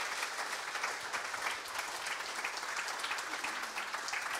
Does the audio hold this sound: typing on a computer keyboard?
no